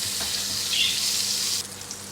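Butter hitting a hot frying pan while cooking brown beef steak, a bright hissing sizzle, close and fairly loud, easing off toward the end of the short stretch.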